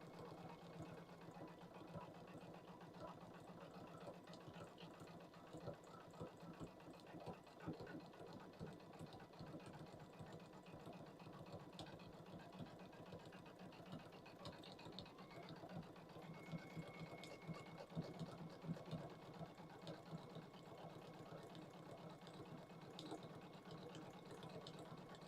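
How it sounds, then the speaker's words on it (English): A sewing machine stitches fabric for a fursuit, its motor whirring in a fast, even chatter that runs continuously and fairly quietly throughout. "Just me staring at a sewing machine."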